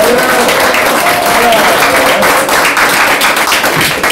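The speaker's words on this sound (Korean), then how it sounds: "응원의 박수 한번 부탁드리겠습니다." Party members of a Busan branch applaud at a rally for a presidential candidate, producing loud, dense, continuous clapping that fills the space throughout, with voices faintly mixed in.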